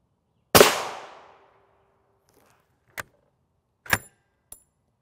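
Gunshots fired at a Level IV armor plate (RMA Armament Model 1118): one loud, sharp crack with a long ringing decay, then three shorter, fainter impacts spaced over the next few seconds.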